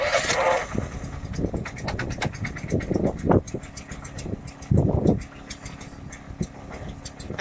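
An engine idles unevenly after a carburetor adjustment, hunting for a steady idle. Its low running sound swells into rough surges in several bursts, then settles back in between.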